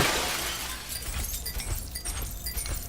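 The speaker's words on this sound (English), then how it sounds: "Breaking glass with fists." Glass shatters as it is smashed with bare fists in the video game Crime Boss, a loud crash followed by a dense, rattling spill of breaking shards.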